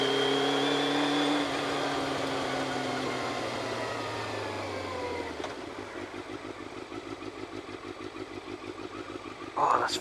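A Yamaha Thundercat motorcycle engine revs high and then winds down, its pitch falling steadily before settling into a pulsing, throbbing idle, loud and close.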